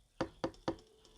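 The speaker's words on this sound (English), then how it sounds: "Someone tapped on the door." Three quick, close knocks on a door in an even rhythm, alone in an otherwise quiet room.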